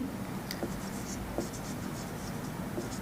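Chalk or marker scratching on a classroom board in short strokes, a steady scritch of writing close by over faint room noise.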